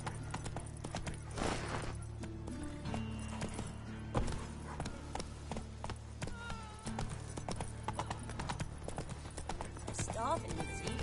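Horse hooves clip-clop at a steady galloping rhythm in The Witcher 3, with a brief whinny, layered over game music and a streamer talking.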